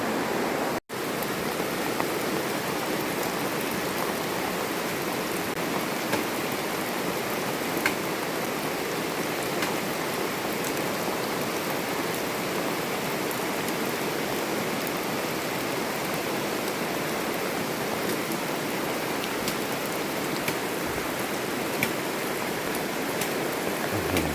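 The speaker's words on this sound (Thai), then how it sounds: "ไม่ปราณีเราแล้วนะฝนนะครับ" Heavy rain pours in a dense, steady hiss, loud and unbroken throughout, with occasional sharper drops standing out from the roar.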